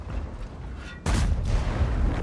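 A sudden heavy tank cannon boom from a WZ-111 model 5A in a tank video game bursts out after a quiet rumbling stretch, its blast ringing and rumbling on loudly for over a second.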